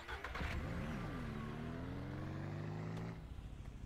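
Small vehicle driving in the Ranch Simulator farming game, a steady engine hum that rises in pitch as it accelerates, then settles and stops abruptly, heard alone.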